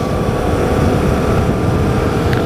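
A car engine drones steadily and loudly through a manual upshift, the clutch released slowly after briefly lifting off the gas, with a continuous low rumble and no clear break in the sound.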